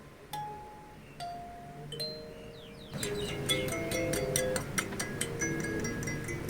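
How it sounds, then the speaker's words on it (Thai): Single bright metallic notes are plucked one at a time, then a quicker run of overlapping tines rings out, soft and close. "มันคือคาริมบ้านั่นเองนะครับเดี๋ยวผมลองดีดให้ดูก่อนว่ามัน เป็นเสียงไง"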